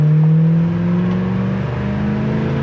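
A 1977 Chevy Camaro accelerating in first gear, its engine note a loud, close, steady drone with rising harmonic tones and no talking.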